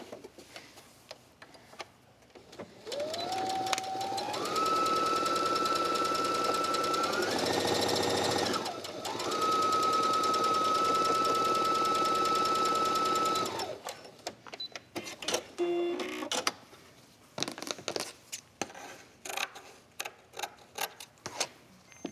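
Sewing machine stitching fabric pieces onto a quilted tablet case, running in a steady continuous whir with a brief pitch rise and pause midway, close and loud, then stopping into quieter handling clicks.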